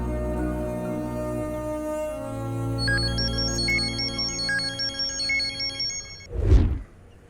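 A mobile phone rings with an incoming call, a melodic electronic ringtone of repeating high tones that starts about three seconds in over low background music, then cuts off as a loud thump lands near the end.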